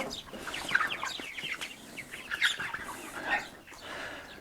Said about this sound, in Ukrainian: Тут у нас курчата.